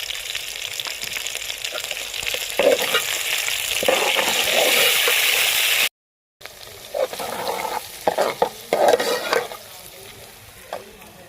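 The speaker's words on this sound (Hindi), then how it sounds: "लहसुन अदरक को हम थोड़ी देर के लिए भूनेंगे, अच्छे से भून जाए।" Loud, steady sizzling of garlic-ginger paste and green chilies frying in a hot pan, with stirring scrapes, briefly cut off midway before continuing.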